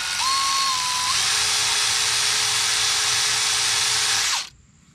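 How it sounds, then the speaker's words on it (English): A wire wheel spins loudly and steadily, scrubbing a brake caliper pin from a Nissan 300ZX, holding one high whine for about four seconds before cutting off abruptly into quiet. "So basically we're just going to take a wire wheel,"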